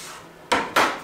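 Knife chopping through fried bacon on a cutting board, two crisp sharp knocks about a quarter second apart, close and fairly loud, with no voices.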